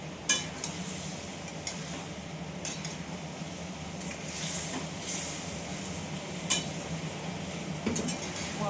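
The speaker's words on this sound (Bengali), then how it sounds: "মশলাটা আমি এবার ভালো করে কষিয়ে নেব।" Masala for an ivy gourd and potato curry fries in oil while being stirred, a steady soft sizzle with scattered scraping spoon strokes and light clinks against the pan, close by and without talk.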